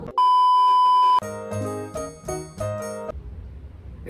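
A homemade googly-eye electronic instrument: a steady beep holds for about a second, then a series of short, bright synthetic tones plays in a choppy, uneven pattern before fading out.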